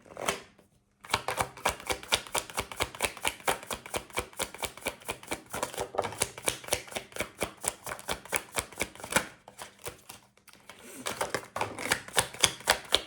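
Oracle cards being shuffled, a rapid run of crisp riffling flicks and taps that continues steadily and close, with a brief pause near the start and another near the end.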